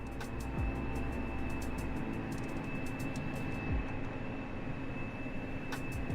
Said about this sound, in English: I can hear planes when they're flipping miles away, can't I?